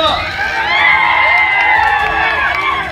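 A large crowd at a political rally cheers and whoops loudly and continuously, many voices shouting together in a sustained roar of excitement.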